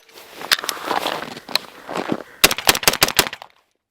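An X95 rifle fires warm Winchester White Box ammunition from Lancer magazines: a few scattered sharp shots, then a quick rapid string of about seven cracks, loud and close, before silence.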